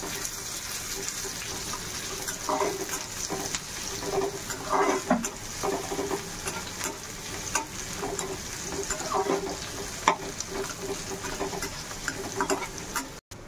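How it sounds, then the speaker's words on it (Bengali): Chopped onion and green chili fry together in a pan until reddish, giving a soft, steady sizzle broken by occasional stirring scrapes. "পেঁয়াজটা একটু লাল লাল করে ভেজে নেবো।"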